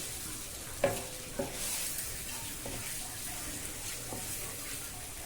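Coriander powder being roasted in a pan for a greens pulao, a faint, even hiss with a couple of sharper knocks of a spoon against the pan early on, then gentle intermittent stirring.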